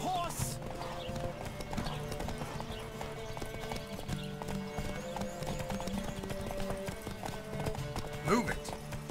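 Horse hooves clop in a quick galloping rhythm over a steady music bed in the video game The Witcher 3, with a brief whinny near the end.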